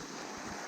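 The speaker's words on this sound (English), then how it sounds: "the river. It's really loud." Loud rushing river on a hiking trail near waterfalls, a steady broadband roar of flowing water filling the whole short moment with no pauses.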